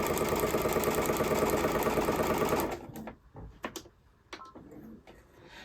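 A sewing machine stitches a small quilt block for a holiday elf sampler, running in a fast, even mechanical whir for a few seconds, then stopping, followed by scattered light clicks and handling sounds.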